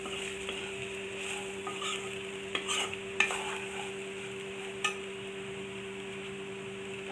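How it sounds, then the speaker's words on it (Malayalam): Spices and chilli powder frying over medium heat in a pan while being stirred for mutton gravy, giving a low steady sizzle broken by a few soft scraping strokes, with a constant electrical hum beneath. "അതിൻ്റെ പച്ചമണം മാറുന്നിടം വരെ ഇളക്കണം."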